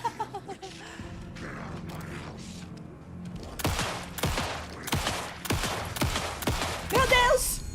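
Rapid bursts of gunfire in Alan Wake 2 crack in a quick series, layered over game sound effects and a brief whistling tone.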